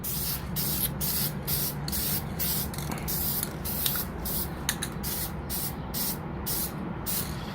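A handheld spray bottle sprayer used while finishing a 3D-printed helmet squirts in a steady run of short, repeated bursts, close and fairly loud, with no talking.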